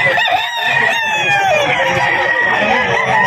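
A white Kelso rooster crows loudly and close by, a long drawn-out cock-a-doodle-doo with clucking from other fowl around it, while someone talks briefly in the background.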